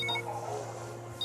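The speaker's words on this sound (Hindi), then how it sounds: "तुम्हारा फोन बज रहा है।" A phone rings indoors with repeated electronic beeping tones, moderately loud, over a steady low hum.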